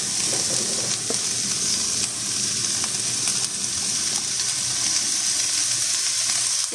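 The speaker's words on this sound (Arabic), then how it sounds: "وبنقلب هذه المكونات كلها مع بعض، بس تشويح" Bell peppers and other vegetables are stir-fried in a pan for chicken fajitas, giving a steady close sizzle with scattered scraping and stirring clicks throughout.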